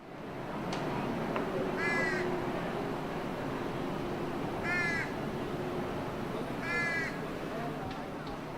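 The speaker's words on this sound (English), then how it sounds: "a baby crow, an adult crow, and a raven, all together" Crow and raven calls mix together: a baby crow, an adult crow and a raven give three separated bursts of harsh caws over a steady outdoor rumble, with a faint thin call between them.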